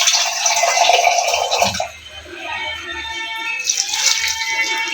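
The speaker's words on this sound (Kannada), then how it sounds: "ಸ್ವಲ್ಪ ನೀರು ಹಾಕಿ" Water poured from a vessel into a cooking pot with ground masala, a loud splashing gush for about two seconds, then quieter trickling and a second pour.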